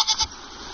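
Local goats in an African village near gorilla forest, a short nasal bleat in two quick pulses, close and fairly loud, then fading to quiet background.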